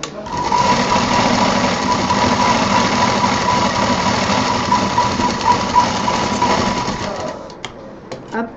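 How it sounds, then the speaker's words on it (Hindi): A sewing machine runs a steady, continuous double line of stitching on a DIY sling bag, loud and close with a rapid mechanical whir that winds down and stops near the end. "इसको यहाँ पर हम डबल सिलाई कर देंगे।"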